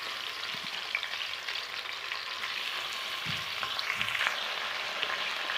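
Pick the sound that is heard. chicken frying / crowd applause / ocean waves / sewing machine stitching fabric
chicken frying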